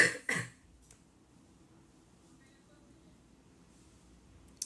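A couple of quick, sharp coughs close to the microphone at the start, then near silence with faint room noise.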